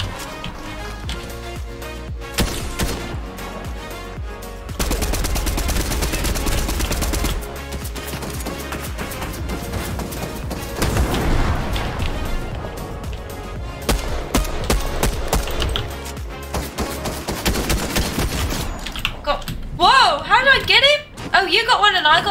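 Gunfire rattles through a Fortnite Chapter 3 match: bursts of automatic and single shots with shifting loudness, one hard burst near the middle, and players' voices and game music running beneath.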